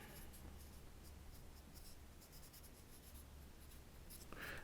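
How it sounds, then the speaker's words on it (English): A pen writes on a wooden popsicle craft stick to make a plant label for rosemary, giving a faint, continuous close scratching with no talk. "we're just going to write rosemary on there."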